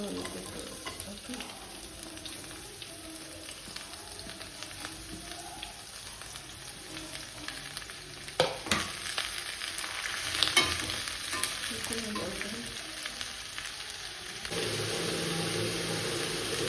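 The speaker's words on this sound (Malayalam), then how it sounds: "ഉള്ളി ഇങ്ങനെ വഴറ്റിക്കൊണ്ടിരിക്കുന്നതേ ഉള്ളൂ" Sliced onions sautéing in a pan for chicken liver roast, a low continuous sizzle with occasional utensil scrapes and clinks, busier stirring near the middle, and a slightly louder hiss toward the end.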